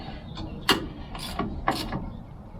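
Three or four short metallic ratcheting clicks as a line wrench tightens a brake line fitting on the drum brakes of a 1996 Ford Ranger, close and crisp with quiet pauses between.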